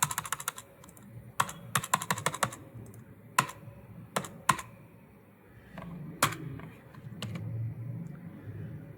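Typing on a computer keyboard in an office, crisp close key clicks landing in quick clusters and separate taps, with soft background rumble between them.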